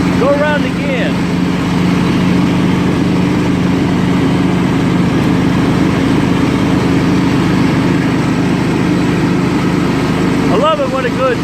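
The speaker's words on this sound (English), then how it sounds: "I love it when a good tractor runs good. John Deere, running like it should." Scotts lawn tractor engine running steadily at close range, a loud, constant droning hum with no pauses, a brief higher whine near the start and again near the end.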